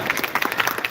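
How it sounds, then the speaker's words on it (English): An audience at a live talk at an aquatic expo claps in a brief, dense burst of applause close by. "You can clap if you want, I don't mind claps."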